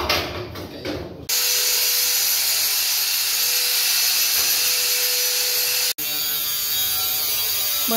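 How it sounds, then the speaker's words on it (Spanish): A metal sheet is being cut with a power tool, a loud steady grinding whine that runs continuously after a brief start, with a short break near the end before it resumes. "está cortando la lámina porque se tiene que dar prisa"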